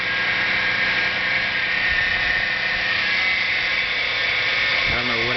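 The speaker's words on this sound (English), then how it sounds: "now if you hear that whine" A 2007 Hyundai Sonata V6 with a whining engine noise, a constant high-pitched whine over a droning idle, close and loud, with a brief low rumble near the end.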